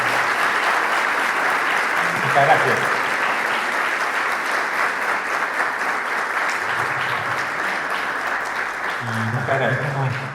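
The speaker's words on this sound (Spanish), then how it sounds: "voy a pedir al público presente, al auditorio, que le demos un fuerte aplauso" Sustained audience applause fills an auditorium at a psychology congress, steady and dense throughout, with a voice speaking briefly over it near the start and again at the end.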